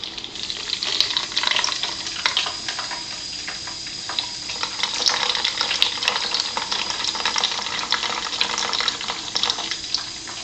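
Water flows steadily from a Melody water ionizer with a flow control valve, a continuous close trickle and splash with faint clicks and no talking.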